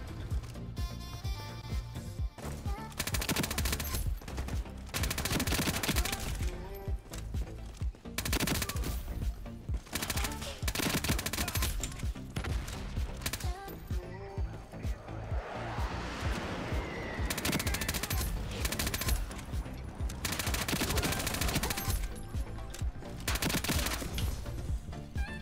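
A P90 fires in the video game Ironsight in long, rapid automatic bursts with short pauses, loud and close, with the clatter of other weapons in the background.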